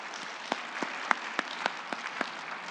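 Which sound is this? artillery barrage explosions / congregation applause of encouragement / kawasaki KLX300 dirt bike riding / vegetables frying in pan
congregation applause of encouragement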